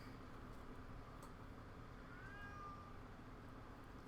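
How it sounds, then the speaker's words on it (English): A male house cat gives a single faint, drawn-out meow partway through, set against a steady background hiss with no talking. "the cat is still meowing"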